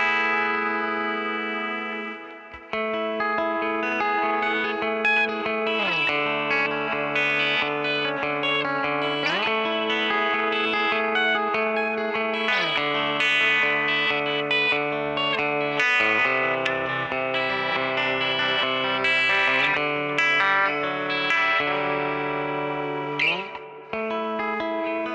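Electric guitar played through the Neural DSP Mateus Asato Archetype on a heavily modulated preset: sustained chords and ringing notes wash with chorus, echo and reverb, shifting pitch in slow steps over a steady, loud level throughout.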